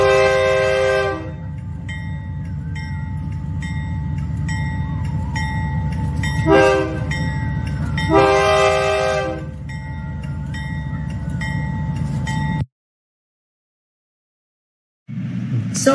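A long Brazilian freight train of 180 wagons rolls past nearby, a steady loud rumble and clatter of wagons with horn blasts sounding repeatedly before the noise cuts out abruptly near the end.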